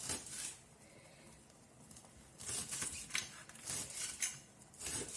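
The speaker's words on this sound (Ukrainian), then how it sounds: "Ще наріжу петрушки." Parsley is cut with a knife on a board in a home kitchen in quick bursts of soft tapping and slicing strokes, spaced by short pauses, close by and fairly quiet.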